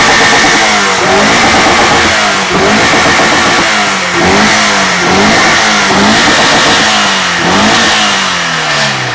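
An Alfa Romeo 33 boxer engine revs hard and repeatedly, its pitch rising and falling in loud, close bursts with no pause.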